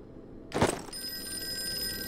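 A telephone starts ringing in the Call of Cthulhu video game after a soft thump, a steady electronic bell tone sustained at moderate level in a quiet room.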